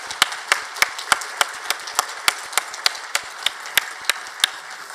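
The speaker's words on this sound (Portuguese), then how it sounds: "nós agradecêssemos a essa equipe, a Gisele, com uma salva de palmas." Clapping at the opening ceremony of the Flipoços 2016 festival, heard as sharp, evenly spaced claps in a steady rhythm, fairly close and distinct rather than a dense wash of applause.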